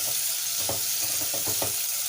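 Green chilies frying in a pot for a lamb stew give off a constant hiss, with a few soft scrapes as they are stirred.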